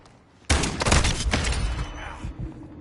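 Video game gunfire in a shooter with a Hurricane, Oni Revenger and Expedite 12 battery: a sudden loud burst of rapid shots after a quiet moment, rattling for about two seconds before fading into echo.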